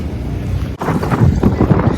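Strong wind gusting outdoors beside a warm pool, a rough, buffeting rush that drops out briefly and returns louder, close to the microphone.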